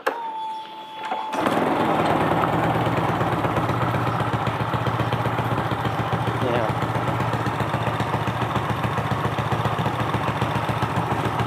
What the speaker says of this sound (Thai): เดี๋ยวจะมาลองติดเครื่องดูนะครับ